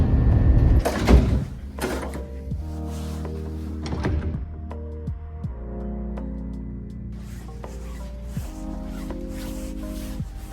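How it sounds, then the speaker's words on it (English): Train doors open at Fullerton station with sharp mechanical clunks, followed by steady tonal chimes and rail hum that carry on for several seconds. "Doors open on the left at Fullerton."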